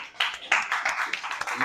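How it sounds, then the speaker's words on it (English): Audience applause for Katie at a real estate insurance talk, a dense patter of clapping hands filling the room with voices mixed in. "Round of applause for Katie."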